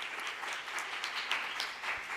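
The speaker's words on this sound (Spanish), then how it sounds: "Un aplauso." Applause from an audience at a Latin American panel session on autonomous weapons and artificial intelligence, a steady wash of many hands clapping at moderate distance.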